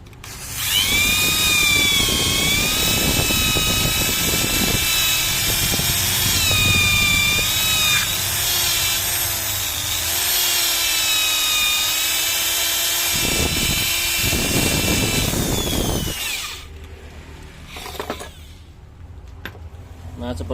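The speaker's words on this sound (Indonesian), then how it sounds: "Jadi saya di sini gunakan alat sebuah bor ini untuk ngalusin rotor tengahnya ini teman-teman." An electric drill spins a motor's central rotor to smooth it, giving a loud, sustained high whine that holds steady for about sixteen seconds, then cuts off, leaving faint handling noise.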